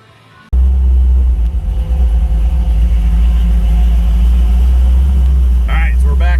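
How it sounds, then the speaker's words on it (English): A Chevy Nova with a blown LS engine backs out of a shop, its deep low rumble steady and close throughout, with a brief burst of higher noise near the end. "so we're backing out of Carl's shop here"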